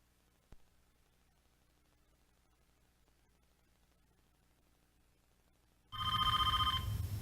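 A telephone bell starts ringing loudly and close by near the end, following a long stretch of near-silence broken by a single faint knock.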